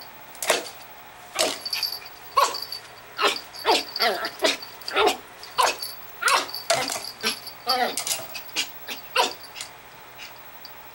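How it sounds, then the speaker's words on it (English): A small Schipperke dog growling, whimpering and letting out short yips in a rapid, uneven series of close, fairly loud bursts, with a person's voice speaking intermittently among them. "You are one tough little dog. Did you bite it? Did you growl at it?"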